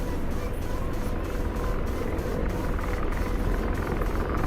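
An Apache attack helicopter's rotor chops in a steady, rapid, loud beat over a continuous turbine roar in a video game, with no other sounds breaking through.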